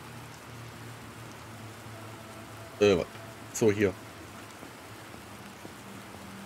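Steady rain hissing down in The Planet Crafter, a soft even wash of noise heard throughout, briefly interrupted by two short bursts of talk in the middle.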